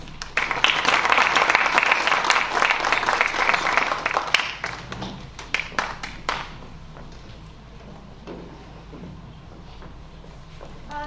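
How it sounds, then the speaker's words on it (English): A banquet crowd at a Kentucky FFA awards event claps loudly for the winners, a dense burst of many hands that thins into scattered claps and fades after about six seconds. "Let's give all these a round of applause"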